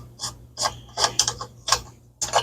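The valve on a Coleman 200A lantern turns with very little effort, producing a series of close gritty ratcheting squeaks in short irregular bursts.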